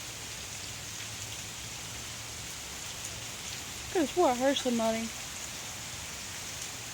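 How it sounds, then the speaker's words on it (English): Rain falls steadily and fairly loudly in a continuous wash on a rainy fall day, while a voice speaks briefly partway through. "I don't like this rain"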